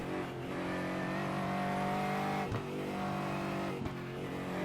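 Aston Martin GT4 race car in the iRacing simulator at Winton Raceway, engine droning loud and steady with gear shifts and brief dips in revs, close and continuous without voices.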